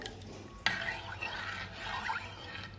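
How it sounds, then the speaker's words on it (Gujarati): Curd being added to milk that had been heated too hot and then stirred with a spoon, giving a single sharp clink followed by soft, continuous scraping and swirling close by, with no talking. "તો હવે જરાક હહેકું થયું તેમાં જો થોડીક દહીં નાખી દઉં"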